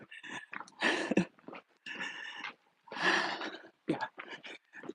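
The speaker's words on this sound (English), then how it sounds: "These dogs usually bark at me." Dogs at a house in a residential neighbourhood, giving short, breathy barks and huffs in irregular bursts with pauses between, fairly close.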